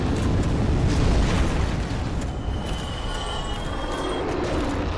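A dragon's fire breath in Dark Souls Remastered bursts out as a loud, roaring rush that sustains for several seconds, then gradually thins to a softer crackling hiss.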